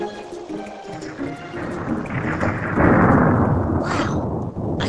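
Thunder rolls through a storm, a broad rumbling roar that swells past the middle and fades into lingering low rumble, loud and enveloping with no voices.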